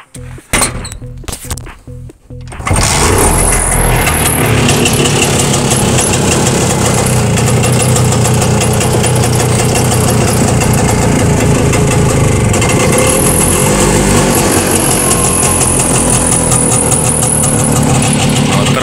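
After a few brief knocks and thumps, a Muravey motor scooter's engine fires up and settles into a loud, steady, close idle that runs unbroken to the end.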